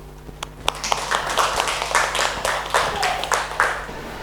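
A classroom audience applauds to welcome presenters, a run of uneven, distinct hand claps from a modest group in a room, with a steady background hum beneath.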